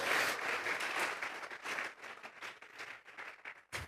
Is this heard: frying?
no